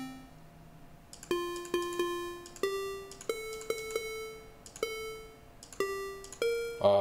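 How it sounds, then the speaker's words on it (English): A synthesized square wave tone generated in JavaScript through a musical web interface plays a melody of short buzzy notes at varying pitches, each with a sharp onset and brief decay, clear and alone. "Let's try a square wave."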